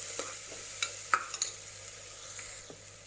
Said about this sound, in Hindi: इसमें हम कटी हुई ग्रीन चिली ऐड करेंगे। इसको अच्छे से मिक्स कर देंगे।